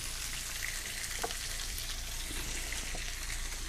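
Salmon sizzles on a hot grill in a soft, steady crackle, with a few light clicks and a sharp knock at the very end.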